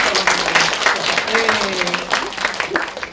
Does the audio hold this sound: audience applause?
yes